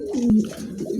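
A pigeon, one of a pair for sale, gives a short, close, throaty coo that rises and swells briefly before trailing off.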